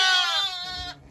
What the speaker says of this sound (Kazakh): туған қойлар шуылдап жатыр.